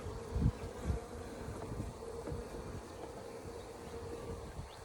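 Honey bees buzzing steadily around a hive being set up, a dense close drone with occasional louder passes and faint knocks from handling the hive parts.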